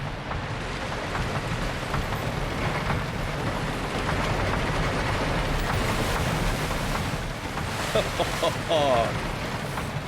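Water splashes from a roller coaster in the video game Planet Coaster, a steady broadband rush of spray and churning water with scattered splashy bursts toward the end.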